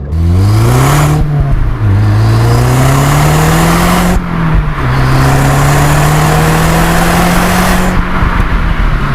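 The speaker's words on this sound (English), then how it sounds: "mainly the noise is from the induction, because there's a big turbo just down there" A loud Mk1 Audi TT quattro Sport engine revs and holds steady, with a rising whir and big-turbo induction whoosh layered over the drone, dipping briefly between pulls.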